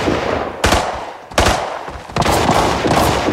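Gunfire in a shooter video game, several sharp, loud shots spaced about a second apart, each with a brief ringing tail, ending in a denser run of fire.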